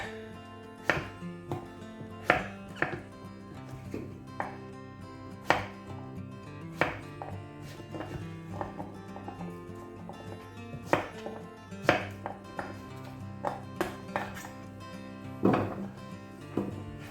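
A knife chopping butternut squash into chunks on a board: sharp, irregular thuds and clacks, close and distinct, some in quick pairs with short pauses between cuts.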